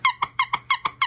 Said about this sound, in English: They love these squeaky toys so much.